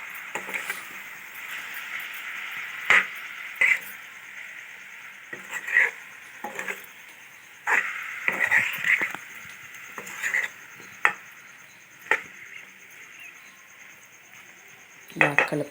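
A masala paste is stirred into a prawn and drumstick curry in a pan, the spoon giving scattered metallic clinks and scrapes against the pan over a steady low hiss, with no talking.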